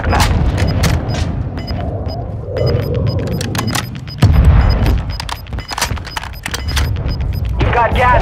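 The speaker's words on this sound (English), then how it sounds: "Mortar strike inbound now." Mortar strike explosions in Call of Duty: Warzone 2.0, heavy booms and crackling blasts landing over several seconds amid scattered gunfire, with radio voices talking throughout.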